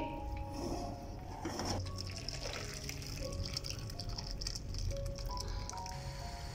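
Leftover chicken yakhni broth poured out of a cooking pot, a soft continuous liquid gush with faint splashing and squishing, close and quiet, with light clinks from the pot.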